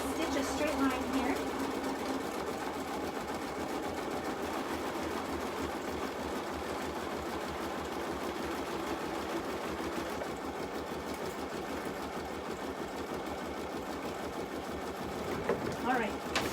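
An embroidery-club sewing machine runs a straight stitch line through pink fabric, a steady continuous whir that fills the clip at low level with a brief clunk near the end.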